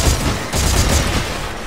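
Gunfire in the sci-fi shooter Dead Space 3, a dense burst of rapid shots that pauses briefly and then resumes, loud and continuous throughout with no talk.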